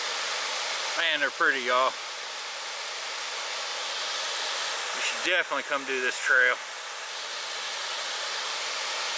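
Middle Falls waterfall at Burgess Falls State Park, Tennessee, gives a steady, broad rushing roar that fills the whole clip, with someone talking over it twice.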